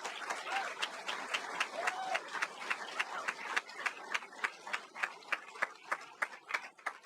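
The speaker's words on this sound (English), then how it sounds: "Let's give them a round of applause," Audience applause at a Bay Mills Community College graduation ceremony, a steady wash of many hands with individual claps standing out in a fairly even rhythm, moderately loud and sustained throughout with light crowd murmur beneath.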